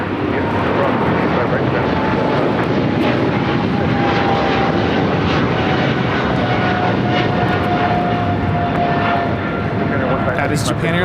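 Japan Airlines Boeing 777-300ER departing LAX for Tokyo Haneda, a loud sustained jet engine roar with a slowly shifting whine running throughout and talk mixed in.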